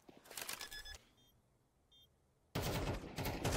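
Gunfire from a Counter-Strike match: a dense burst of rapid automatic shots, a quieter stretch with brief metallic clicks, then a second loud, sustained volley of shooting.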